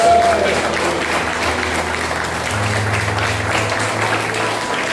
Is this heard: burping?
no